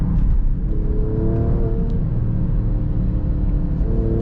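An Alfa Romeo Stelvio Quadrifoglio all-wheel-drive performance SUV accelerates hard with a deep, loud engine rumble. The rising engine tone is heard steadily from inside the cabin.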